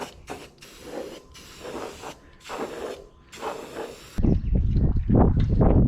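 Spray gun laying a thick coat onto a 1973 Chevy long bed truck being converted to a short bed, a steady hiss broken into several bursts, then a louder, denser rushing stretch toward the end.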